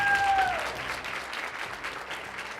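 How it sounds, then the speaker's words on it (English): Applause fills a high school room for a student's college signing, steady moderate clapping from a gathered crowd that tapers slightly, with a brief whistle at the start. "Let's give her a round of applause"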